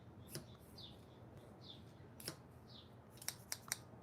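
Freshly sharpened scissors snipping, several short crisp cuts spaced through the clip, sharpest in a quick cluster near the end, close and fairly quiet with faint chirp-like squeaks between.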